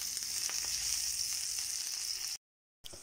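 Chicken pieces sear in a hot pan with a loud, steady sizzle that holds close and even for a few seconds before a brief cut to silence, then picks up again. No voices are heard.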